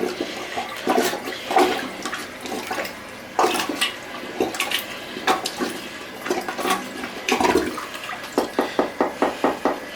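A toilet after being plunged, with rushing, gurgling water swirling and draining in uneven surges, then a series of regular rhythmic sloshes toward the end, fairly close and loud.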